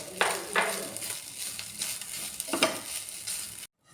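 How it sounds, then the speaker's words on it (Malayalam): Curry leaves and grated coconut crackle and sizzle in hot oil while being stirred for a South Indian masala chutney, with steady frying noise and a few sharper spatters up close. "ഇനി നമുക്കിതിലേക്ക് കറി ലീവ്സ് ഇട്ട് കൊടുക്കാം."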